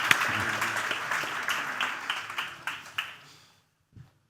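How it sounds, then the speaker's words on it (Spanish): Applause fills the room at an anniversary celebration event, many hands clapping steadily and then thinning into a few last scattered claps before fading to silence near the four-second mark. "Vamos a darles un fuerte aplauso"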